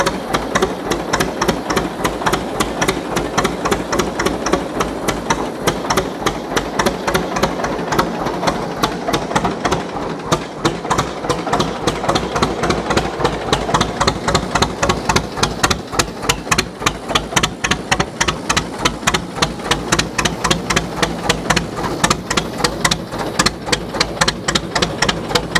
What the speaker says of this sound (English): Just a nice old running tractor.